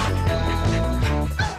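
A small dog yaps a few times in a television commercial, the quick barks partly buried under loud, continuous background music throughout.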